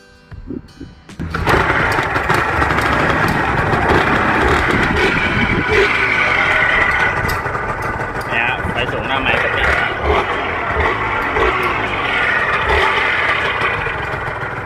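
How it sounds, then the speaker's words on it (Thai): A Yamaha TZR two-stroke motorcycle engine starts up, then idles steadily and close by, with a buzzy, slightly uneven rattle that carries on alone through the rest of the stretch. "เครื่องเงียบกิิบฮะ"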